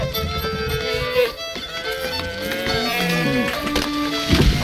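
Cattle mooing on a farm in the medieval city-building game Stronghold 3, drawn-out lowing calls over a busy game soundscape of music and ambient effects, steady and moderately loud throughout.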